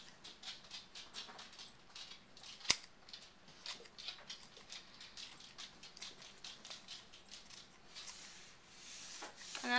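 Scissors snipping the ends of braided kumihimo rope up close, a string of quiet crisp cuts and rustling handling with one sharper snip, no talking.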